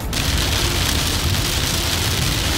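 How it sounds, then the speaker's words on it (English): Heavy rain pours down near a cruise port, a dense, loud, continuous roar of water hammering surfaces with no break and no voices. "I have not seen it rain this hard in a long time"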